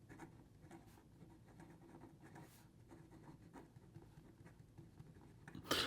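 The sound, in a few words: Visconti Viscontina fountain pen reverse writing on paper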